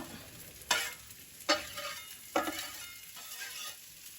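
Saffron threads and garlic toasting in a hot pan for curry, with four distinct stirring scrapes spaced about a second apart over a faint steady sizzle, close and fairly quiet.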